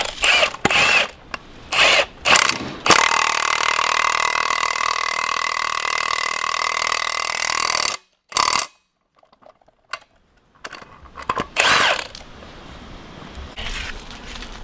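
Power tool tightening lug nuts to pull new wheel studs into the hub of a RAM 3500 truck, loud close bursts of impact-style whirring and rattling, one long sustained run, then short pulses with gaps between.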